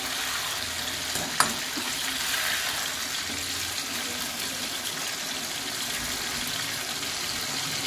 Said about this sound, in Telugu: కదండి మనకి చక్కగా ఫ్రై అయిపోతున్నాయి